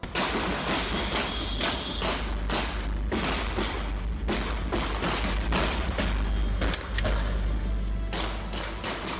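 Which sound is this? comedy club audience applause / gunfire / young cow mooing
gunfire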